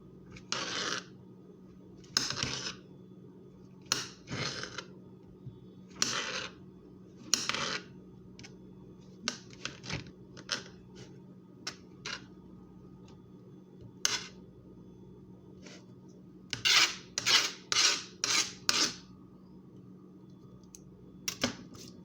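A knife cuts up chicken and mushrooms on a cutting board at home for a carbonara dish, sharp taps and clicks coming in irregular bursts and quicker runs, close by with no talking.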